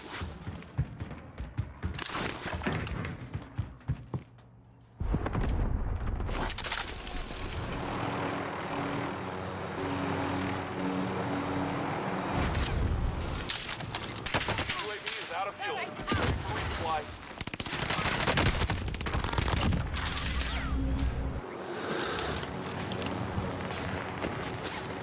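PPSh-41 submachine gun hipfire in Call of Duty Warzone: loud, rapid bursts of automatic fire crackle at the start and again later, over a steady drone of aircraft engine noise.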